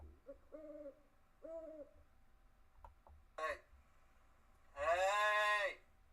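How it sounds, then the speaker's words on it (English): Recorded owl hoots played back during a search for an owl sound before a CFL football watch party: several short hooting calls, then a louder, longer harmonic call near the end, heard alone over quiet room tone. "Let's see if we can look up an owl sound for Vince"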